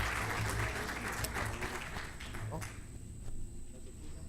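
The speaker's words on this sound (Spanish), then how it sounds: "con un aplauso saludamos entonces y damos la bienvenida a nuestro primer expositor, don Miguel Candia Díaz." An audience at a telecommunications talk applauds to welcome the first speaker, dense clapping that is loudest at first and then thins out and fades.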